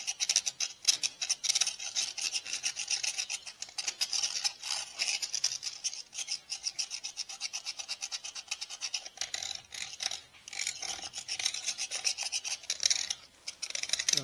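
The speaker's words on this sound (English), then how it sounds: "If you can, scrape. Ooh, that rust is pretty bad." Rust is scraped from a cylinder sleeve of an Allis Chalmers WD45 tractor engine during a rebuild, a loud, rapid rasping scratch in repeated strokes, close up, with a few brief pauses.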